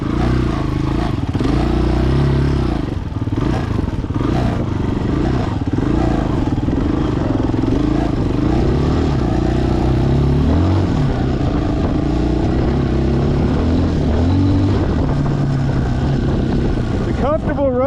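A Chinese dual sport motorcycle ridden through snow gives off a steady, loud engine drone close by for the whole ride, with a brief rise in revs at the very end.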